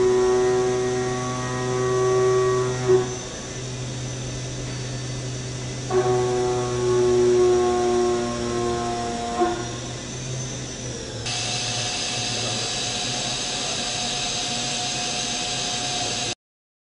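A CNC mill with dual-drive shrink-fit tooling cuts a pocket in aluminum at 7,500 RPM, taking a 1/2 inch slot at 1/4 inch axial depth, giving a steady loud tonal whine that shifts pitch between passes.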